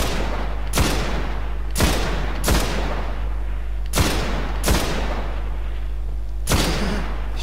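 Loud gunshots ring out in the video game Destiny, about seven sharp reports at irregular intervals, each with a short decaying tail, no voices.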